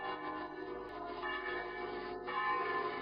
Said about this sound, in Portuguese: A maneira como os sinos foram ajustados para tocar todos eles foi harmonizada para produzir um som melodioso e profundo.